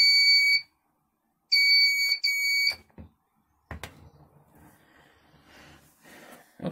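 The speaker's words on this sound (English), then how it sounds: "What is the frequency of this little buzzer?" A 220 V industrial indicator buzzer gives a shrill electronic tone in short bursts: one, a pause, then two more close together. Silence and faint handling clicks and rustles follow.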